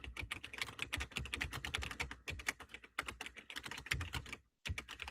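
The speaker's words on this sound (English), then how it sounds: "I'm typing something really quick." Rapid typing on a computer keyboard: dense, uneven clicking of keys, close up, with short pauses between bursts and no talking.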